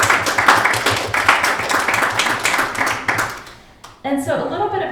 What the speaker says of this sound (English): Miriam Diddy and also Garron Yepa, if we want to give them a round of applause.